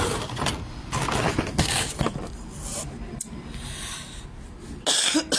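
A lingering post-flu cough, several rough coughs and throat clearings close by, with a car engine and door sounds in the background.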